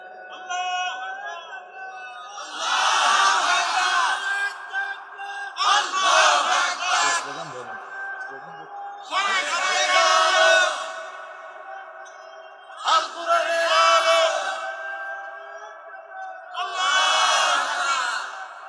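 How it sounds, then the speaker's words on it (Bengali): A large rally crowd chants slogans loudly in unison in several long bursts, each a few seconds long and separated by brief pauses, close and forceful, with someone speaking in between. "একটু গলা ছেড়ে স্লোগান দেন তো।"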